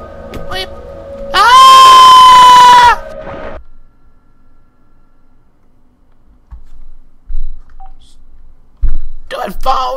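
A phone in the video game Black Mesa plays a loud, steady dialing tone for about a second, then falls quiet. Brief knocks and a short burst of sound follow.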